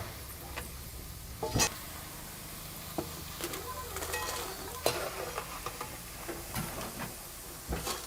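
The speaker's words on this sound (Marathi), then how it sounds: "थोडं थोडं घालून आहे ना मी तळून घेते पटकन फुलून आहे ना वरती येतात" Dried rice kurdya crisps fry in hot oil, giving a steady close sizzle and crackle with occasional stirring clicks and small pops throughout.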